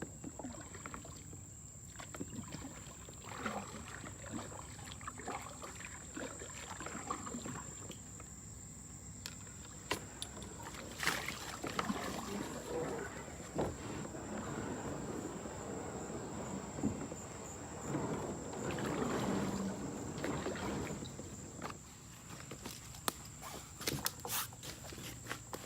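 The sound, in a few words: paddling a canoe on a lake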